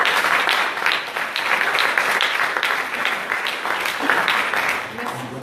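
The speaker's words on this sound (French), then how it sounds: "on peut les remercier et les applaudir" Audience applause at the closing of a two-day biodiversity university event in Rochefort, thanking the organising team: a steady, dense wash of many hands clapping throughout, fairly loud and continuous.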